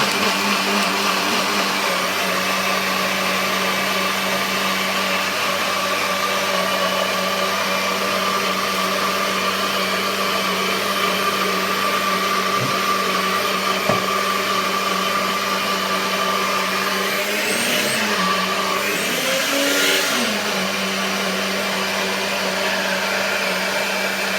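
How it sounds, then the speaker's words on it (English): A blender runs continuously at close range, a loud steady whirring drone that shifts pitch briefly near the end as the contents churn. "Alright, let's blend this."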